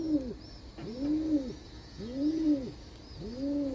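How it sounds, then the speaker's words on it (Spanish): A blue pigeon coos in a steady repeating rhythm, four soft rolling calls evenly spaced and heard close, with no one talking. "la paloma azul."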